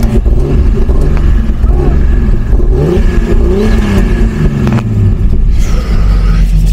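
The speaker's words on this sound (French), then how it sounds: "Donc là on est dans la E30, on va faire un petit tour de chauffe." A BMW E30 engine revs loudly and continuously from inside the car on a cold warm-up lap, its pitch sweeping up and down through gear changes.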